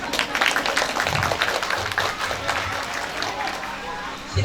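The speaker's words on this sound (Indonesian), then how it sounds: "Tepuk tangan dulu untuk semuanya." An audience at a religious gathering and charity event for orphans claps steadily and densely throughout, a continuous wash of applause with low murmurs beneath.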